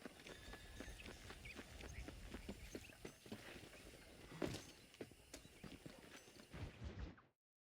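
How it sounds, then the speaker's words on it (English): Wild horses galloping in the Red Dead Redemption video game, a quick rhythmic run of hoof clops and thuds, faint and steady, then cutting off abruptly. "Wild horses."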